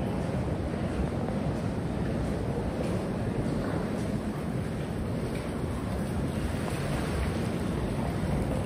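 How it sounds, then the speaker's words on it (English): Ocean waves surge inside a sea cave on the Oregon coast: continuous rushing surf fills the space, a dense steady roar of churning water with wind noise, loud and close, no voices. "See a bigger wave coming through here."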